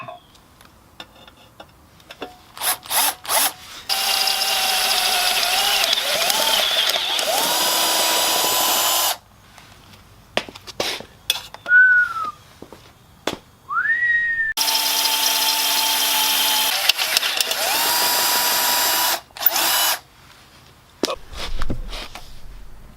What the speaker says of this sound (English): You gotta have oil when you're drilling stainless.